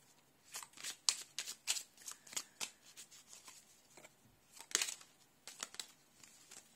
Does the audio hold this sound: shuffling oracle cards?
yes